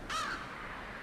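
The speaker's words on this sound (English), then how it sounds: "What you doing up there, crow?" A single crow in the video game Limbo lets out one sharp, clear caw that rings briefly and fades against a quiet forest ambience.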